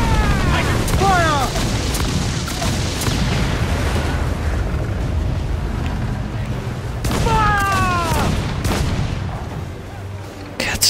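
Ship cannons fire during a naval battle with legendary ships in Assassin's Creed Black Flag, heavy booms and bursts over constant sea and battle noise, with shouted voices mixed in.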